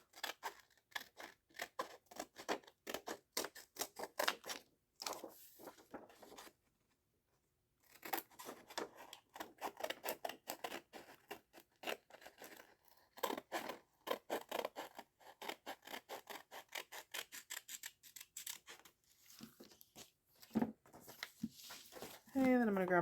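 Scissors snip around the edges of a paper journal signature, giving a long run of quick crisp cuts in uneven bursts with a short pause midway. A voice briefly joins near the end.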